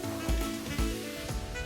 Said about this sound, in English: just going to sort of seal the outside of the pork